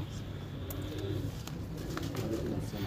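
Champion racing pigeons in Multan coo softly in a low, rolling murmur, with faint chirps and rustles nearby.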